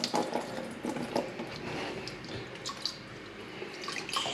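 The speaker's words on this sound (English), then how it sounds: "Just putting some lukewarm water here." Lukewarm water pours into a biOrb aquarium, with close splashing and dripping that comes in a few spurts, then settles into a softer, steady trickle.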